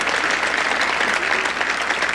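A stand-up comedy audience breaks into dense, continuous applause, many hands clapping loudly and evenly for the whole short stretch with no voice over it.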